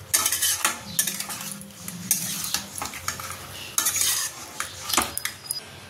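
Fried prawns tossed into a pan with spices for a Bengali prawn kalia, metal spatula scraping and clanking against the pan in irregular bursts over a soft sizzle, close and without talk.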